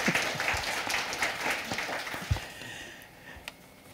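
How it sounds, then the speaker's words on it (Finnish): An audience at a Finnish talk on trust in service quality claps in a brief burst of applause that thins out and fades within a few seconds. "Nyt saa taputtaa."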